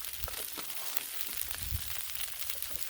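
Eggs frying on a Blackstone griddle, a faint, even crackling sizzle with soft scattered pops, continuous and unvoiced.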